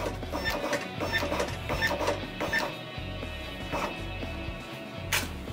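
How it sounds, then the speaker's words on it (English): An RXi4 label printer prints and encodes RFID tags in a steady run of whirring motor feeds and clicking stops repeating several times, close and mechanical, with no voices. "I'm going to go ahead and send that to the printer,"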